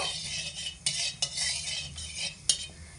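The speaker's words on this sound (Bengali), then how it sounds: "তেল একটু নাড়াচাড়া করে দেব।" A metal utensil scrapes and clinks against a pan of mustard oil in a few sharp strokes over a low background hum, close by and fairly quiet.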